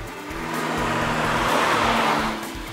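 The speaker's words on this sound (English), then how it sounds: "Downshifting in the BRZ sounds and feels better than in many extravagant six-figure supercars." A Subaru BRZ engine roars steadily with shifting harmonic tones, the revs rising and falling as it downshifts, loud and close with no voices.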